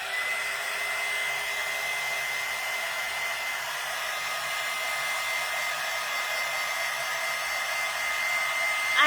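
A hair dryer blows steadily on a handmade watermelon coaster craft piece, a loud continuous whir with a constant pitch and no talking over it.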